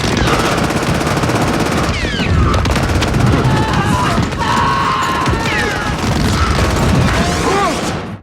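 Continuous, loud combat noise from the Saving Private Ryan beach landing scene, with rapid machine-gun fire, gunshots, blasts and crashing debris layered into a dense wall of sound, with faint shouting mixed in.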